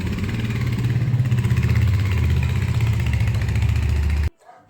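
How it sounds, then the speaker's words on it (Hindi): A motorcycle engine runs steadily at close range with a low, throbbing rumble, then cuts off abruptly near the end. "सुंदर बनाएंगे बाइक को, फिर चलेंगे इस पर बाइक।"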